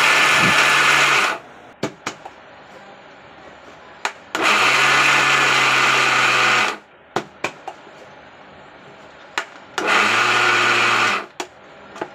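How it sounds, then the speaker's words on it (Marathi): A mixer grinder whirs loudly grinding sesame seeds and peanuts coarsely in three separate bursts of a few seconds each, with clicks and clatter of the jar in the pauses between. "मिक्सरमध्ये छान असं जाडसर वाटून घेतले मी"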